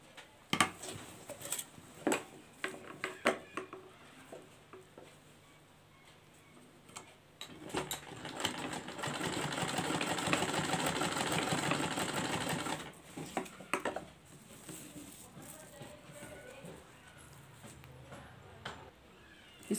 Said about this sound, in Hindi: इसके बाद हम लैस की दूसरी तरफ भी सिलाई लगा लेंगे।